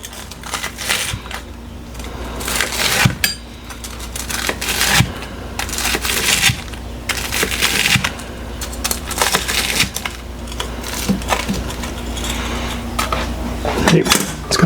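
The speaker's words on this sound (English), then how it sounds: "So I'm gonna just slice this up real quick before I put it on the plate." A knife slices through crispy, crackling-skinned Costco pork loin, giving repeated crunchy cracks and crumbly crackle up close in a steady, uneven rhythm.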